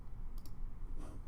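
A computer mouse gives a couple of soft, quick clicks close by, with a quiet gap between them.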